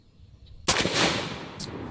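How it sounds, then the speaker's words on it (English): A suppressed Anzio 20mm sniper rifle fires a single shot outdoors after a scope adjustment: one loud, heavy report with a rolling tail that fades, after a quiet lead-in. "Now I made some adjustments on my scope, and we're going to take a second shot."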